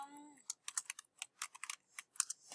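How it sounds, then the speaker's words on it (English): Quick, close keystrokes on a computer keyboard as login details are entered, forming an irregular burst of crisp clicks that follows a short tone at the start, with no talking. "it's going to have me type in my stuff."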